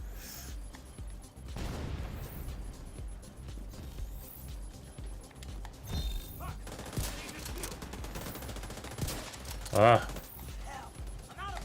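A pistol fires in The Division 2 amid scattered gunfire and game noise, with a sharp report near the end standing out over a player's voice and background commotion.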